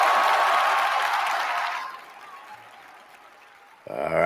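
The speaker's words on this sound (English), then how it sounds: "Round of applause for y'all." A burst of clapping and cheering from a small group, loud at first and fading out after about two seconds before a voice starts talking.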